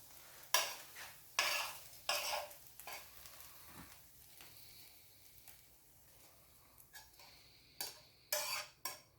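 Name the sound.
eggs and chorizo cooking in a pan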